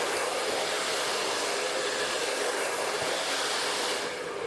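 A blow dryer drying hair gives off a loud, constant whooshing roar close to the ear, unbroken from start to finish.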